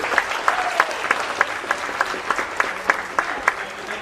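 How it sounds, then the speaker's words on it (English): An audience at a high school humanities symposium claps to welcome the panel host, a steady run of sharp, fairly close hand claps from a modest crowd. "Please welcome with a round of applause."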